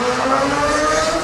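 A loud motorbike engine roars close by at an airport, a steady high-revving whine sweeping past with no talking.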